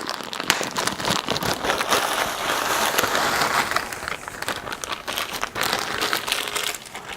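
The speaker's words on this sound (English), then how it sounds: "I'm going to add 1 small package of whole kernel corn." A small package of whole kernel corn is torn open and emptied into a tortilla soup being made, giving close, irregular bursts of crinkling plastic and rattling kernels.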